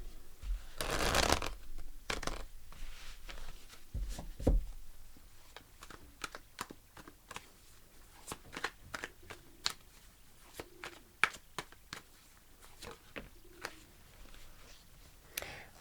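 Tarot cards being shuffled by hand, a long run of crisp close riffles and sharp snaps, heavier at the start then settling into quick irregular flicks with no voice.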